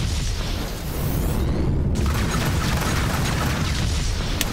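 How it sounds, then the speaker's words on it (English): An upgraded missile launcher fires in the space combat game Rebel Galaxy Outlaw, giving a loud whooshing boom with a sharp burst midway, set against a continuous roaring rumble and no talk. "Missile away."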